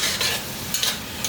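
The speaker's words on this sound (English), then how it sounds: "I'm just going to give that a proper stir" Garden fresh tomato pasta sauce with bay leaves being stirred in a pot, a brief close bubbling simmer with soft scraping strokes of a spoon.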